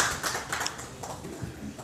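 Faint, scattered applause from an audience at a Hindi-language business presentation as a guest is sent back to his seat, a brief patter of clapping with a murmur of voices beneath.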